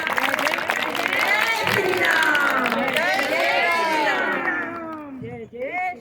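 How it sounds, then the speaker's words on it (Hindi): A crowd at a yoga class's annual day celebration claps and cheers steadily and loudly, with voices and music-like tones mixed in before the sound fades out near the end. "जोर से तालियां"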